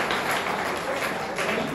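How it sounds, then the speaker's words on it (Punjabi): Brief burst of crowd applause at a motivational talk, a dense wash of clapping lasting under two seconds with voices mixed in. "ਇਸ 'ਤੇ ਤਾਲੀ ਬਣਦੀ ਹੈ"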